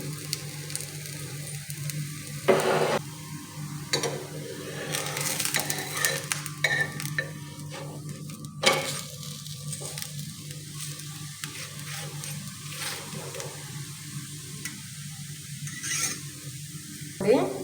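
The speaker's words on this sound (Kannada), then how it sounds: "ಮೇಲ್ಗಡೆಯಿಂದ ಸ್ವಲ್ಪ ಈ ಥರ ಎಣ್ಣೆನ ಹಾಕ್ಕೊಂಡು ನೀಟಾಗಿ 2 ಕಡೆಯಿಂದ ಚೆನ್ನಾಗಿ ಬೇಯಿಸ್ಕೊಳ್ಳಿ" Thalipeeth flatbread frying in oil on a pan gives a steady sizzle and crackle with occasional scraping and stirring clatter throughout, close and moderately loud, with no talking.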